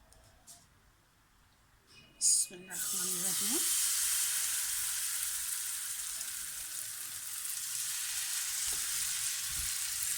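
Egg and potato paratha batter hits a hot oil-greased pan and breaks into a loud, steady sizzle that continues evenly after a brief clatter, with a voice heard faintly at the start.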